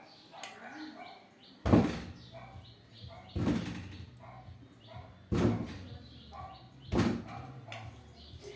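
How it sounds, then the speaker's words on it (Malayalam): Four heavy thuds from a door being banged on at night, coming at steady intervals of about two seconds. Each blow is loud and close, with quiet background noise in between. "അതും അവിടെ ഇന്ന് വാതിലിനായിട്ട് ഇടിക്കുന്നുണ്ട്."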